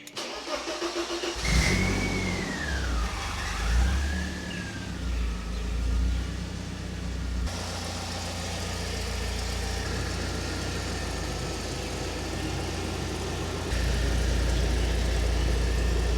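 A BMW E36 engine cranks and catches with a short rev, then drops to a smooth, steady idle close by that continues to the end, with no talking.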